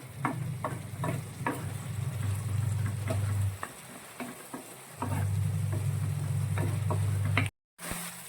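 Bitter gourd pickle masala of fried mustard seeds, fenugreek and dried red chillies cooking on a low flame, with a steady low sizzle broken by a short pause and scattered scraping taps of stirring, no talk.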